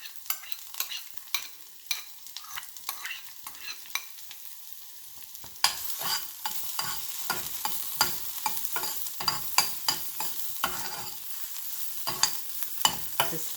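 About four cloves of finely chopped garlic fry gently in a little oil in a small pan, a soft sizzle punctuated by regular ticks and scrapes of a stirring spoon that grow busier halfway through.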